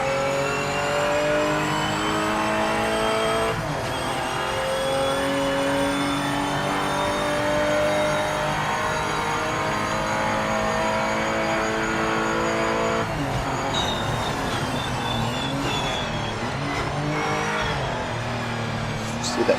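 Race cars in the Project Motor Racing video game drone and rev steadily at Essex, engine tones rising and falling through gear changes, loud and continuous for the whole stretch.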